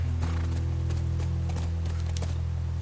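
Rhythmic hoof clip-clops of a horse in The Last of Us Remastered, at a steady gait over a constant low hum, moderately close, with no talking.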